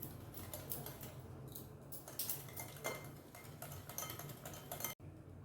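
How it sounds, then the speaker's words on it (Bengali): A whisk or spoon clinks rapidly against a bowl while sugar is mixed into beaten eggs for an orange almond cake, a quick steady metallic tapping up close that stops abruptly near the end. "এবার চিনিটাকে ভালো করে মিশিয়ে নেব আমি।"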